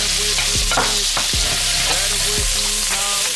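Garlic, onion and chili sizzle loudly in hot peanut oil in a heavily heated wok, a constant crackling fry broken by several sharp scrapes and clanks of stirring.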